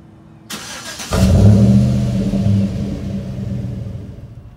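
A car engine cold-cranks and fires, with a brief starter whir followed by a loud, close rumbling catch that settles into a steady, deep idle for several seconds.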